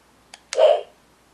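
A Power Rangers Legacy Dragon Dagger toy key gives a small click and then a short electronic tone, brief and close, alone with no talk.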